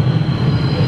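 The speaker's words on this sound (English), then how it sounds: "Okay, the train is here." Train arriving at a Beijing rail transit station, heard as a loud, steady low rumble and rolling hum of the cars with a faint high whine, close by and without voices.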